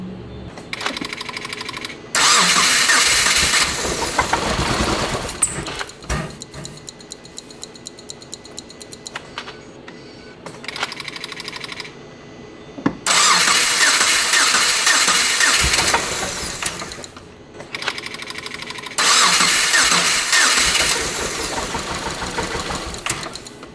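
A Subaru Crosstrek engine, under examination for motor issues, is cranked and started, with loud stretches of churning engine noise between quieter gaps where a rapid mechanical ticking can be heard, recorded close up and without voices.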